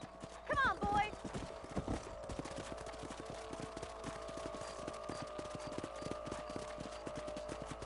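Horses' hooves clip-clopping at a steady trot in the video game Red Dead Redemption, a dense, fairly close rhythm of hoofbeats with a brief horse whinny near the start and people talking over it.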